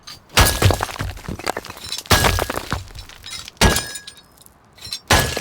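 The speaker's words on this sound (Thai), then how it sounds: "มันมีเสียงแบบเสียงโซ่อะ" Four loud bursts of rattling, metallic chain clatter from a weapon skin in the game Rust, each crashing in suddenly and fading, separated by short pauses.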